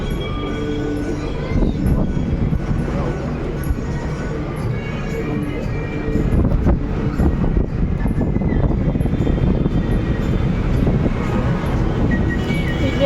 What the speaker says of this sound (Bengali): কত ধীরে ধীরে ট্রেনটা যাচ্ছে